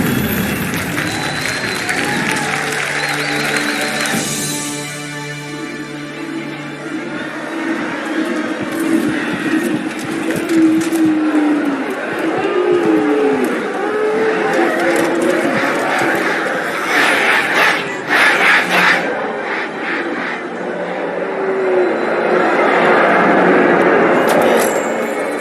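Crowd cheering and applauding in a Halo 2 video game cutscene, a swelling roar of many voices with bursts of clapping and whistles, alongside music and spoken dialogue.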